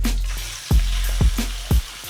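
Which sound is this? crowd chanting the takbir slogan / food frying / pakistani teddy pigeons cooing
food frying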